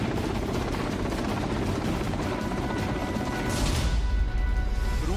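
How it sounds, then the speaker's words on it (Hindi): A Russian KA-52 attack helicopter striking Ukrainian military sites: a steady, dense rotor roar with rumbling impacts, continuous and loud throughout, swelling slightly near the end. "रूसी सेना का सबसे खतरनाक KA-52 हेलीकॉप्टर एक के बाद एक यूक्रेन के सैन्य ठिकानों को नेस्तनाबूद करता हुआ नजर आया।"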